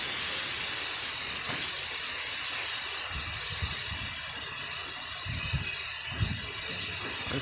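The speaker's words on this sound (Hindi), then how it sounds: "बहुत ही हवा भी चल रही है, हवादार बारिश हो रही है" Wind-driven rain falls steadily on a stormy April day in Miyanwala, Dehradun, giving a continuous broad hiss with low, gusty rumbles that swell and fade throughout.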